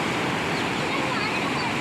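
Loud, constant roar of rushing water pouring out of a hydroelectric dam in a heavy flow, broadband and unbroken, close by.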